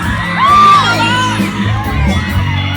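Crowd whooping, shouting and cheering for a band covering a Filipino song at a live event, loud and sustained, with rising yells and a bright whistled whoop near the start.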